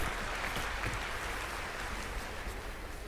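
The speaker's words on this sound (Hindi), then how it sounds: "आप सबसे निवेदन करता हूं कि जोरदार ताली बजाकर उनका अभिनंदन करें।" A large crowd at a farmers' event in Betul, Madhya Pradesh, claps loudly and continuously, a dense unbroken roar of hands that holds steady throughout.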